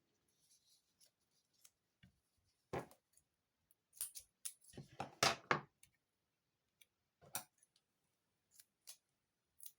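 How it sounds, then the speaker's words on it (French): Scissors snip small pieces of foam while a woman makes a 3D autumn greeting card, a few separate soft snips and then a quick cluster of cuts, close and fairly faint, with no talking. "Je vais couper des petits morceaux."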